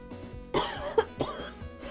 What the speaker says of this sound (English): he let out a few coughs